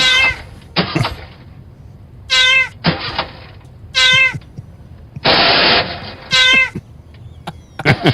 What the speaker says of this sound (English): This cat is having trouble.